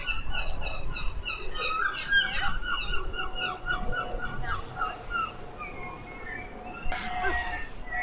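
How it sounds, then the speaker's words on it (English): Many gulls cry and squeal repeatedly at middle distance, overlapping calls over a low outdoor rumble, in Conwy, Wales. "there's a lot of seagulls"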